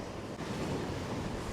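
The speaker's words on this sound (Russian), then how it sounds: "Волны разбушевались около ресторана," Rough waves on Lake Ohrid churn and wash near a lakeside restaurant in Pogradec, Albania, a continuous broadband roar with heavy wind buffeting the microphone and no voices.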